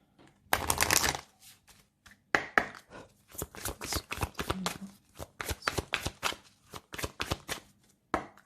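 Tarot cards riffled and cut by hand, a dense rapid burst of shuffling followed by a long run of crisp, evenly spaced slaps and taps as the deck is split and set down, close and clear with no voices.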